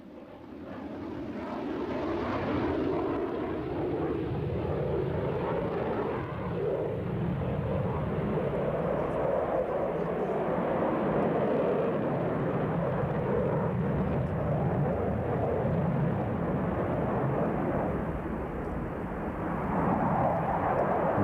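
A MiG-29 fighter jet flies over, heard as a continuous, heavy engine roar that holds steady and fairly loud throughout, with no talking.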